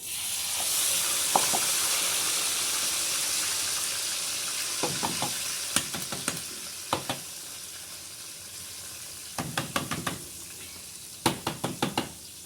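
Ground masala sizzling and frying in hot oil in a pan on a desi clay stove, a steady crackling hiss broken by clusters of sharp spoon knocks and scraping stirs, close and alone.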